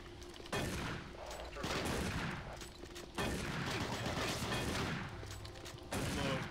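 An enemy machine gunner in Doom 3 BFG Edition fires sustained bursts of loud, dense gunfire that fill the whole stretch, broken by brief pauses between volleys.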